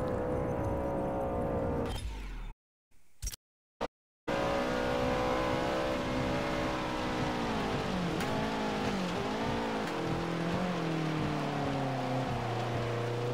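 A Subaru BRZ engine in the racing game Forza Motorsport 7 holds a steady, buzzing drone with shifting revs and pitch swings. The sound briefly cuts out a few times near the start, then runs continuously and fairly loud.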